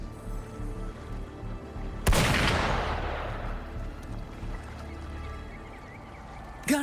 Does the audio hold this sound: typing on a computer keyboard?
no